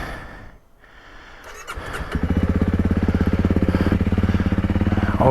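A Honda CRF300 motorcycle fires up after a short quiet pause, then settles into a steady, rapid, close idle putter that stays loud and even to the end, with no talk.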